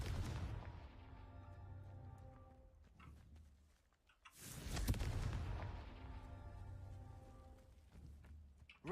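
A Confringo fire spell explodes in Hogwarts Legacy as a single sudden, heavy blast that rumbles and crackles as it fades. It follows an earlier, fading roar, with no voices over it.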